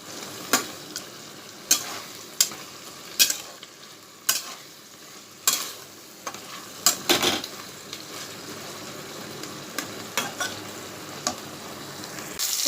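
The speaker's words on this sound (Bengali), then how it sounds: "এরকম শাপলা ভাজা হয়ে গেছে, তেল ছেড়ে দিয়েছে।" Water lily stems (shapla) fry in oil while being stirred, a continuous soft sizzle punctuated by regular sharp scrapes of the spoon against the pan, close and alone without talk.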